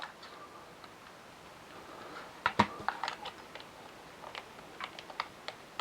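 D-pad buttons on a cheap AliExpress Game Boy Advance clone click close up, with a few sharp taps in an irregular cluster and then scattered lighter clicks.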